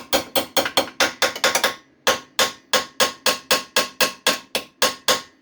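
Repeated ringing hammer blows on a steel RZR frame, a fast burst of strikes followed by a steady, evenly spaced series, each hit clanging and decaying.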